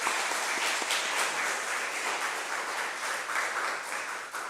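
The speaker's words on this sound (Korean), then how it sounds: "여러분 함께 격려의 박수 한번 해주시기 바랍니다" A church congregation applauds a youth choir after its first performance, with sustained, dense clapping from many hands filling the room evenly throughout.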